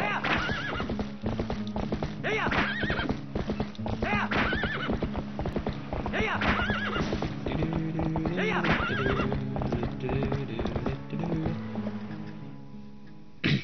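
Horse hooves clip-clopping in a quick galloping rhythm as Link rides in the video game Twilight Princess, repeated loud thuds with whinnies and neighs among them.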